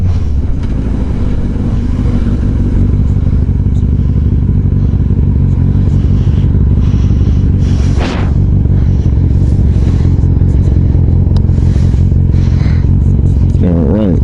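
A motorcycle engine runs loud and close for the whole stretch, a dense, throbbing rumble with brief throttle changes and clatter, while a rider's voice speaks over it.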